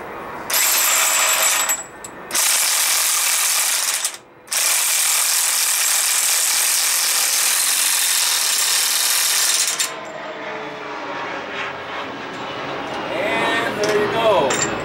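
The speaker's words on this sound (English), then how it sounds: "all we got to do now is run up the center bolt." Ratcheting wrench runs up the center bolt on a 2006 Chevrolet Trailblazer front wheel bearing, a loud, steady, rapid clicking in long bursts with brief pauses, then quieter shop noise and faint voices.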